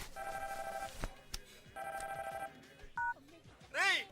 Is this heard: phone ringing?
yes